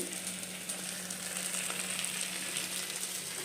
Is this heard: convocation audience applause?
no